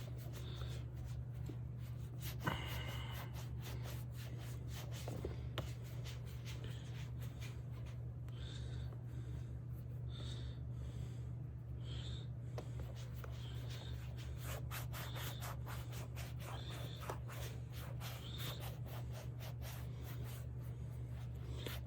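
A cloth rubs conditioner into leather in faint, rhythmic strokes over a steady low hum, with soft scuffing repeating throughout.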